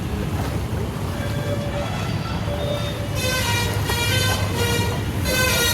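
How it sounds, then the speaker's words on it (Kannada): Floodwater waves surge across a road in Electronic City, Bengaluru, during a night of heavy rain, a loud, steady rushing wash of water with a brighter hiss swelling in the second half, and no voices. "ಆ ಕಡೆಯಿಂದ ಅಲೆಗಳು."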